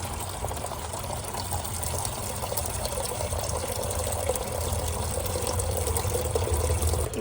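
Water gushes steadily from a burst water pipe, a loud continuous broadband rush close by that holds the same level throughout, with no talk over it.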